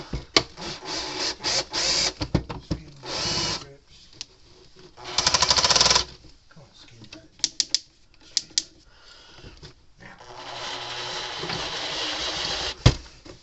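Power drill running slowly on a stuck screw while repairing a 50-mile Zareba electric fence charger, with several bursts of whirring and grinding, some short and one longer, close by between pauses.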